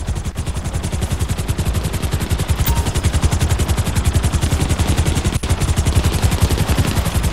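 Sustained automatic gunfire in GTA Online on PC, a dense rapid-fire stream of shots that runs without a break for the whole stretch, loud and close, with no talk over it.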